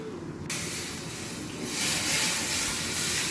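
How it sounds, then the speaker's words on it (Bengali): Lentils (dal) poured into a hot tempering of coconut, mustard seeds and cumin for bitter dal, with a sudden loud, sustained sizzle and steamy hiss that swells further a second later and keeps going. "এখন আমি ডালটা ঢেলে দিলাম।"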